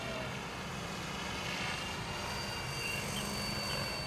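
A JR SY E12 model helicopter hovering during a test flight, its motor turning the rotor at low speed, gives a continuous, even mechanical drone with a faint high whine throughout. No one speaks.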